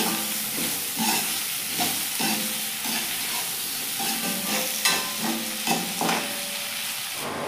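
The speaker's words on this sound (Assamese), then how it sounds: "আমি প্ৰায় 10 মিনিটমান ফ্ৰাই কৰিলোঁ" Radish, potato and ginger frying in a pan, a steady soft sizzle broken by repeated stirring scrapes at an even rhythm, close and fairly quiet with no talk.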